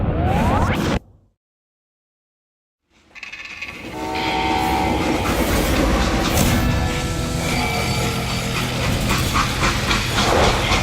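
A freight train in the Call of Juarez Gunslinger video game rumbles loudly and continuously after a brief silent gap, with rolling wagon noise, metallic screeches and a horn-like tone layered over the steady roar.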